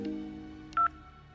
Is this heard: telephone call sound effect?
yes